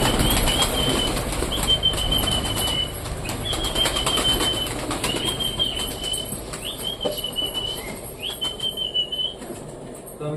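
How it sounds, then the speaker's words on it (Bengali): Pigeons flapping their wings as they fly into their loft, a dense close flutter of many wings throughout, with steady whistling tones and scattered patter over it, no voices. "আশা করি আমাদের সবকটা পায়রা ঘরে ঢুকে গেছে।"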